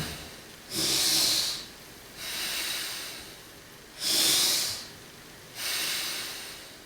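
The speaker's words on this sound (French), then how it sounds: "j'aspire l'air. J'expire avec le nez" Four long, loud breaths alternate close to the mic during a yoga breathing exercise. Air is drawn in hissing through an open mouth with the tongue between the teeth, then pushed out through the nose, each breath lasting about a second.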